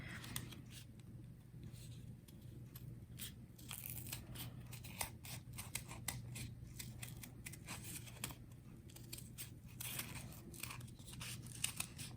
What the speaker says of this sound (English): now I'm ready to cut down between the two parts of my snowflake